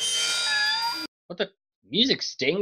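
Cartoon cat meowing in a tree, a couple of short, close, plaintive meows after a brief music sting, with a voice speaking around them.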